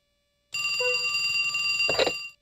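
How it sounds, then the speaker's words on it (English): An electronic telephone in the Wii game Trauma Center: New Blood rings in a steady, bright, sustained tone that stops abruptly after about two seconds, with no speech. "Should have unplugged the phone."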